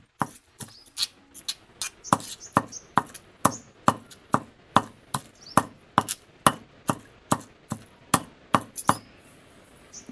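Green chillies pounded in a mortar for a no-oil green chilli and tomato chutney: steady, close, sharp thuds about twice a second, each strike crisp and evenly spaced, with no talking.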